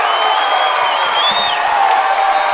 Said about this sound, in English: And that ignites the T-Town crowd.